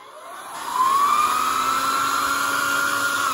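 A small 3D-printed hand dryer blower whirs up from quiet to a steady, loud whine with a rising tone, then holds a constant airy hum close by.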